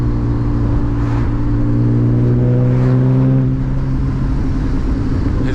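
A manual BMW E36 328i with a loud exhaust drives at night, its engine droning steadily and rising in pitch as it revs through the gear, close and continuous with no talk.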